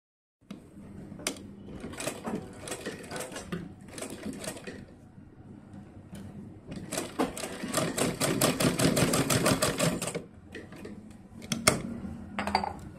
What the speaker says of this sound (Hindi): तो चलिए सिलाई लगाते हैं।